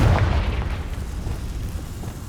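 A Confringo fire spell blasts in the Hogwarts Legacy video game: a deep, loud boom at the start that rolls off into a long, rumbling decay.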